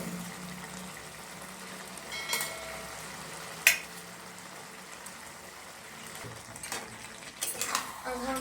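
Vegetables cook in a pan for a cabbage and fish head dish with a soft, steady sizzle, occasional stirring scrapes and a sharp utensil clack partway through.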